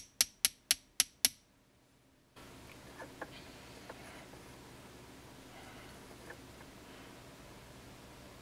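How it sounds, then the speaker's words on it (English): A 999 silver coin ring hammered inside a metal bowl to round it out, heard as five sharp, ringing metallic strikes in quick succession up close, then a quieter stretch of faint taps and room noise. "I'm going to try to stick it in the bowl and hammer that out."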